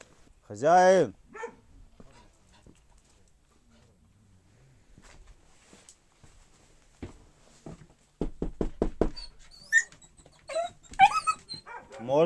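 A dog gives a few sharp barks and soft whimpers amid people talking nearby, with a burst of rapid yelps partway through.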